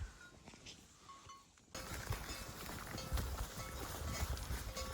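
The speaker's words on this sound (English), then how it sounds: "Pack of horses. Mainly been walking" Pack horses walk a trail in the British Columbia backcountry near Dease Lake, heard as soft hoof steps mixed with rustling and steady outdoor noise, which jumps in loudness partway through.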